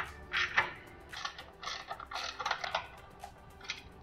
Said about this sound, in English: take our socket and ring spanner and tighten up the motor mounting plate bolts